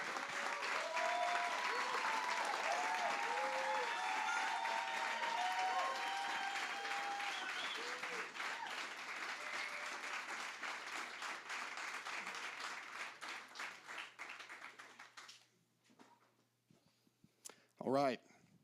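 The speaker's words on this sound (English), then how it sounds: "give a round of applause for the graduate candidates of February 2026" Audience applause for the February 2026 graduate candidates at a Narrow Gate graduation, a dense sustained clapping with voices and cheers mixed in, tapering off toward the end before a brief voice speaks alone.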